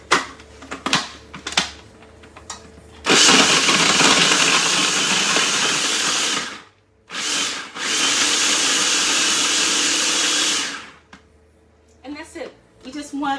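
A food processor with a grating attachment turns cheese rind into coarse crumbs, running as a loud steady whir in two long bursts separated by a short pause, with a person talking before and after.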